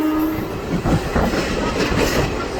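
Steady rolling rumble and rhythmic wheel clatter inside a carriage of the Sai Nagar Shirdi Express as it pulls into Dornakal Junction, loud and continuous without speech.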